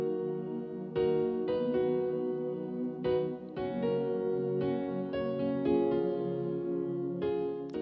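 FL Keys piano chords in FL Studio layered over a soft sustained Nexus PD Ambient pad, slow struck notes ringing above a steady ambient bed, no voices.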